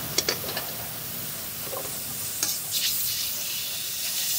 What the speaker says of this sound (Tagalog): Hintayin lang natin mag-melt yung margarine.